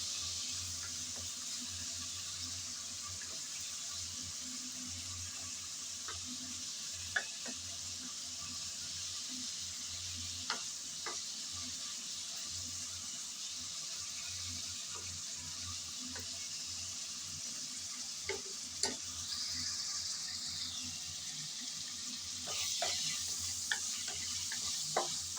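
Shrimp frying in oil and being turned over, a continuous soft sizzle with occasional light clicks from the utensil, steady and fairly quiet, no talking.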